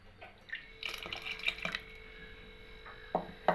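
Extra water is poured into millet (kambu and ragi) porridge in a cooker: a few soft splashes and drips, then stronger splashes near the end, close and fairly quiet with no talking.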